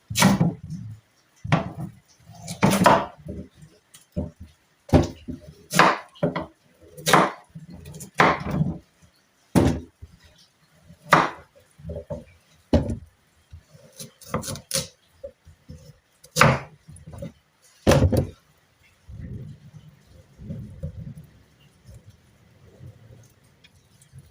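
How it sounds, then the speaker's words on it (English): Sharp, irregular knife chops split arrowroots into halves on a hard surface, each cut a crisp, close knock separated by short pauses, with quieter handling noise near the end. "I have to start cutting my arrowroots"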